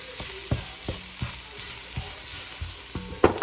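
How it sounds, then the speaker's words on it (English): Onions and seasonings sizzle in a pan for a Cajun Creole dish, a steady frying hiss broken by sharp clinks and scrapes of a utensil against the pan, close by with no talking. "Always allow your onions to cook for a while before you add in your garlic."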